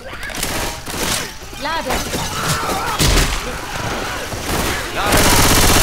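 Rapid bursts of automatic gunfire crackle and shatter through a zombie fight in Left 4 Dead 2, with thuds and crashes mixed in as characters shout in German over the din.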